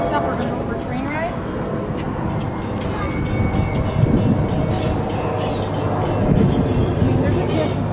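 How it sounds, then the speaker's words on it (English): A steady rumble and rattle of a moving train carriage at Gatorland in Orlando, with a continuous low drone and faint clatter, while voices talk faintly over it. "we're gonna go for a train ride."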